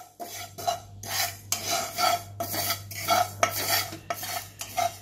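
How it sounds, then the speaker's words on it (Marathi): Fennel seeds, sesame, ajwain and asafoetida dry roasting in a hot pan for chakli masala, stirred with a utensil in repeated scraping, rasping strokes close up over a steady low hum, with no talking. "पॅन चांगला तापल्याच्या नंतर यामध्ये घालूया बडीशेप, तीळ, ओवा आणि हिंग. हे चांगलं आपल्याला खरपूस भाजून घ्यायचं आहे."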